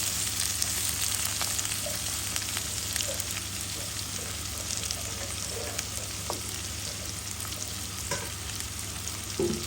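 Tomato and potato sizzle softly in oil in a pan for kachki fish chorchori, with a steady low crackle and intermittent scraping from stirring.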